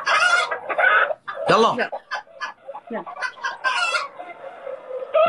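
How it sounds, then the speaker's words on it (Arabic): A chicken clucking sound effect plays from a phone, with repeated clucks and a rooster-like crow in bursts, mixed with people talking and laughing nearby. "عندك صوت دجاجة؟"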